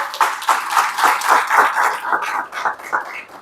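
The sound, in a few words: applause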